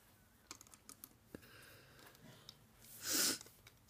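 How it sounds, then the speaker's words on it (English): A single sharp, breathy sniffle from a person with a cold near the end, following a few faint clicks and taps of Rainbow Loom bands in an otherwise quiet room. "I have a cold, so I'm sniffling"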